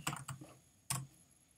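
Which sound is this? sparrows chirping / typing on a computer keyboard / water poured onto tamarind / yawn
typing on a computer keyboard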